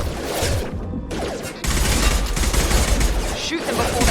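Rapid bursts of gunfire in Mass Effect 2 Legendary Edition, loud and dense, with a brief lull before sustained automatic fire resumes, with a voice faintly mixed in.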